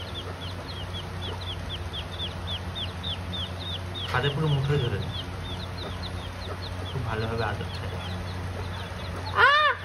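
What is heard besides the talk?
chicken clucking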